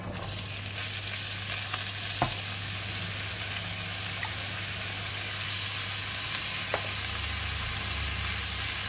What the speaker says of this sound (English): We're going to stir fry until the cabbage becomes soft.